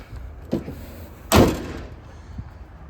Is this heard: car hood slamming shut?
yes